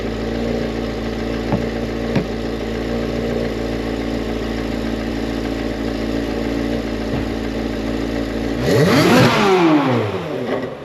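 A cat-delete Chevrolet Corvette C8 Z06 idles with a deep, steady drone while its exhaust valves are closed. Near the end comes a single loud, sharp rev whose pitch rises and then drops back.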